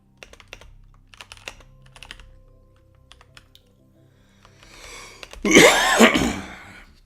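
Light keyboard typing clicks away quietly, then a single loud, close cough bursts out near the end.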